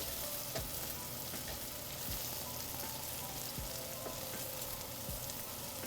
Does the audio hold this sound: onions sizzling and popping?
yes